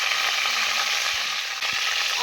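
Chicken frying in a cup of hot ghee in a karahi for a creamy white chicken dish, giving a close, steady, loud sizzle with faint stirring clicks and no talking.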